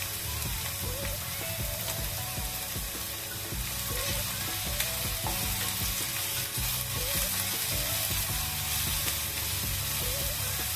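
Onions frying with salt in a pan, a dense, steady sizzle that stays loud and even throughout, with faint clinks of stirring mixed in.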